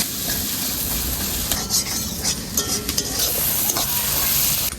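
Ground spices, including coriander powder, fry in oil in a pan for a Bengali-style mutton curry, with a constant loud sizzle and hiss punctuated by scraping strokes of a stirring spoon.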